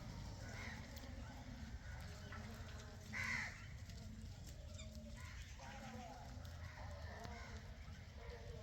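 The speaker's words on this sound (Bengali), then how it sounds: "এই কাকগুলো বসে আছে এখানে" A crow caws once at mid-distance over steady background noise at a deer enclosure, with faint chatter and ambient hum throughout.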